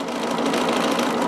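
A sewing machine runs continuously and close up, a steady buzzing hum as it sews a piece of fabric.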